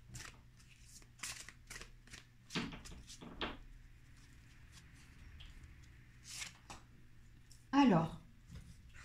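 Tarot cards are shuffled and riffled in soft, intermittent bursts, with a sharper flurry of card flicks near the end, under a quiet room hum while someone speaks French.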